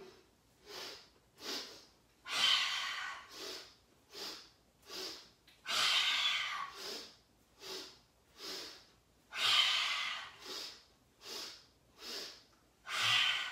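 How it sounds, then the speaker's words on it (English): Breath of joy yoga breathing: a steady pattern of three quick sniffing inhales followed by one longer, forceful exhale, repeated several times, close and clear with no talking. "the breath of joy goes like this. Inhale, inhale, inhale, and exhale"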